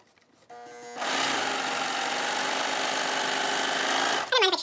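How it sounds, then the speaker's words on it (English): An overlocker runs steadily and loudly, stitching a crotch seam on a pair of Glebe pants, starting after a short pause and stopping abruptly near the end. "So I am going to overlock this crotch seam together"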